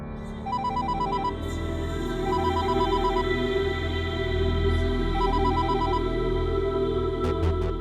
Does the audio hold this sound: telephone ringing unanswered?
yes